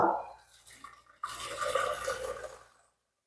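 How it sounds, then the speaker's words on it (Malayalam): Melted jaggery syrup pours and trickles steadily through a strainer, a soft splashing stream that stops abruptly near the end. "നമുക്കിതിനെ അരിച്ചെടുക്കാം കേട്ടോ"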